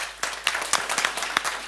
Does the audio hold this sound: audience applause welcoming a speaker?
yes